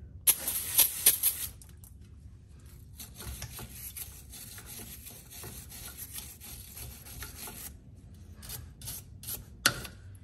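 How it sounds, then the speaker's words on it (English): A wire brush scrubs dirt off a GMC RV air bag mounting area wet with brake cleaner, giving faint, continuous scratchy rubbing strokes close by, with a few sharper scrapes at the start and near the end. "I'm gonna use some brake cleaner and a wire brush to make sure all the dirt is out of the way"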